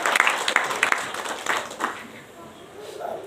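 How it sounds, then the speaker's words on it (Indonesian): Worshippers at a church service clap in a loose, uneven burst, with a few sharper claps standing out early before the sound softens and fades under murmuring voices. "Tepuk tangan buat Tuhan Yesus."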